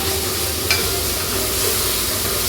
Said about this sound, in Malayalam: തക്കാളി ഒത്തിരി ഇട്ട് വഴറ്റണ്ട, ചെറുതായിട്ടൊന്ന് വഴണ്ടാൽ മതി.